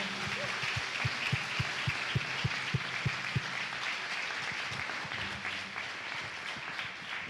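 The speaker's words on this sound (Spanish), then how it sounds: "Alguien que dé un aplauso al Señor." Applause from a church congregation during a Spanish-language sermon, heard as a broad, moderately distant wash of clapping with a few sharper regular claps near the front, continuing steadily throughout.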